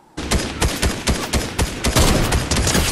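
Rapid gunfire from a heavy sniper rifle and other weapons in the Fortnite video game, with a dense burst of loud, close shots in quick succession throughout and no speech.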